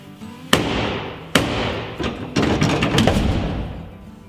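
The trunk lid of a Ford F250 barn-find pickup with a 460 big block drops down hard because a hinge is missing, giving a loud, close metallic bang followed by several more heavy thuds and rattling clanks, with no talk.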